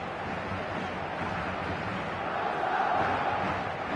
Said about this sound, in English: it certainly got the crowd going